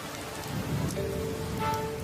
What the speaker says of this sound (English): But when the monsoon clouds finally burst, the highlands are inundated.